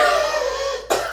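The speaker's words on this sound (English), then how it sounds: "coughing before I make this video, or I won't make it." A man gives one hard cough that cuts off the tone of a sustained voice, followed by a brief pause and then a rough sound of his throat clearing, close and loud.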